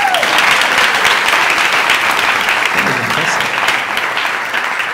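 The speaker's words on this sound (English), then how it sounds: "She should get a round of applause." Lecture audience breaking into applause, a dense burst of many hands clapping close by that gradually tapers off over a few seconds.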